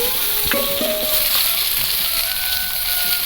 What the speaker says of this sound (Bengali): এই কড়াইতে এই তেলে মাছ ভাজা তেলের মধ্যে বেগুনগুলো ভেজে নেবো হালকা করে